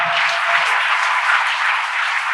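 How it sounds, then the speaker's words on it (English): An audience applauds at a talk, a steady dense burst of clapping heard up close and filling the whole moment without any voices. "Clap that up."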